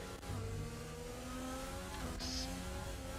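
F1 cars from the game F1 2020 race through the Spanish Grand Prix, engines droning and revving at fairly low level with a brief higher whine as one car overtakes another.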